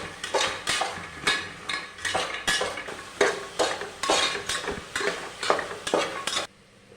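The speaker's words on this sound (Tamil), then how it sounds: "இப்போ எல்லாத்தையுமே மிக்ஸ் பண்ணி விட்டுக்கணும்" A spoon stirs and mixes chickpea curry ingredients in a pan, with rhythmic scraping strokes about every half second over a light sizzle, ending abruptly.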